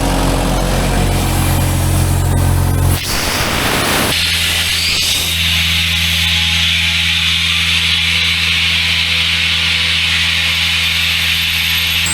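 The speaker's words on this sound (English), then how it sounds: "Got the compressor tied into this 240 gallon tank over here" An air compressor fills a 240 gallon air tank, a loud, steady motor drone with a low hum that settles in after a brief rough burst near the start, running without a break.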